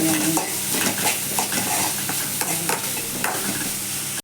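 Chopped onions sauté in sesame oil in a pan for a greens stir-fry, giving a steady close sizzle and hiss with scraping stir strokes throughout and no talking.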